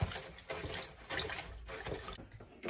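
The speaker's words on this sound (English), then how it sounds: "I put one cup of rice into the warm water. I'm letting it sit. I'm gonna mix it around" A cup of jasmine rice is stirred around in a bowl of warm water, making soft, repeated sloshing and swishing splashes close by at a low volume.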